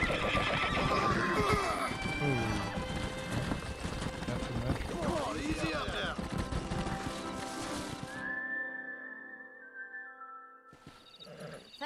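Horse neighing in the video game Red Dead Redemption: a loud, long whinny with rising and falling pitch over hoof clatter and game music, fading to a sustained tone and a short final snort.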